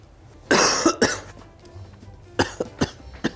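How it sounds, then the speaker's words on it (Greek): Several dry coughs in a chronic coughing fit, one harsh burst followed by a second, then a quieter run of short coughs and throat sounds spread over a few seconds, close and fairly loud. "Είναι αυτός ο βήχας, κάτι χρόνιο κρατάει"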